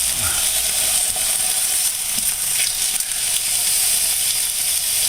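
Beef tenderloin searing in a hot pan just after being flipped, a loud, continuous close sizzle that holds steady with faint clinks of a utensil.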